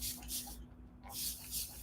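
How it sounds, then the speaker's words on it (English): Several short bursts of fine spray hiss close by as water is sprayed onto dry curly hair, separated by brief pauses, over a faint steady hum. "spraying it down as I go along"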